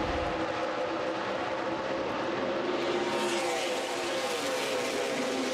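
NASCAR race cars roar at a green flag restart at Kansas, a loud blended engine drone from the pack that rises in pitch and intensity as the field accelerates, with no talk.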